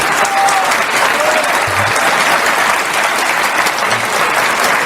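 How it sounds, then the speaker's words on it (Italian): Conference audience applause at a Giza-themed talk, loud and close, with dense, continuous clapping from a large crowd filling the whole stretch without pause. "grazie per l'applauso"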